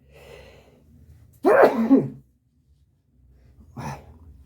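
A single sharp sneeze bursts out close by, preceded by a soft breath and followed by a shorter sniff or exhale after a pause.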